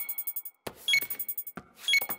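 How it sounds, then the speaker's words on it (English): An electronic computer beeping in quick regular pulses, with a couple of brief sharp clicks or taps between the runs of beeps. "Why is the computer beeping?"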